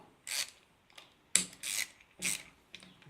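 A ratcheting tool (screwdriver or wrench type) clicks in short bursts as it screws and unscrews, with several quick separate ratchet rattles up close and no talking.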